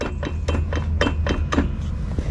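Sharp metallic knocking at the front driveshaft of a Jeep Grand Cherokee, roughly ten close clanks in an irregular rhythm, some ringing slightly, over a steady low hum.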